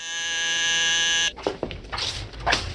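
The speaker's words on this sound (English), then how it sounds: "this is when the buzzer goes off" A loud, steady electric buzzer drones for over a second, then cuts off abruptly, followed by scattered rustling and clattering noises.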